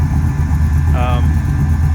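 A 1970 Ford F-100 pickup truck engine idles with a steady low, even chug throughout, with a brief higher tone flickering over it.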